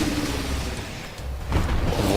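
A lightning spell unleashed in the video game Mars War Logs: a sustained crackling, rumbling burst of dense noise that dips briefly midway and then surges louder toward the end.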